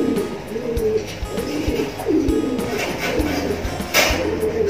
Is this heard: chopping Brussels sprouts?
no